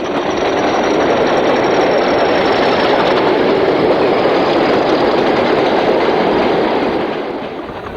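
Class 40 diesel locomotive 40183 on a chemicals train near Berwick Yard in 1975, a loud continuous engine drone and rolling rumble held close and steady before easing off at the end, no voices.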